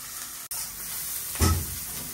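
Onions frying in a pan before dried fish goes in, a soft continuous sizzle and hiss with a brief break and a louder surge of sizzling near the end, close by and with no voices.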